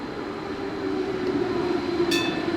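A Croydon Tramlink tram runs along its rails, a steady rumbling roll with a sustained tonal hum that grows slightly louder, then a brief high squeal near the end.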